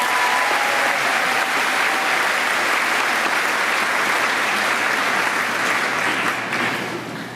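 A school convocation audience gives sustained, dense applause after a ukulele performance, a steady wash of clapping that fades slightly at the end.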